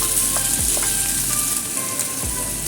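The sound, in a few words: stir frying peppers and pineapple for sweet and sour pork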